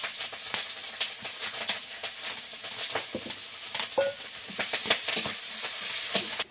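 Onion and green chillies sizzle in hot oil left from frying fish, a crackling, hissing fry with scattered pops and stirring scrapes, moderately close and fairly quiet, with no talking.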